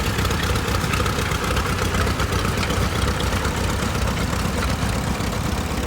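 A 1958 Wheel Horse tractor rolls along in a town tractor parade, its engine running with a steady, loud, close idling rumble and rapid chugging throughout, with no voices.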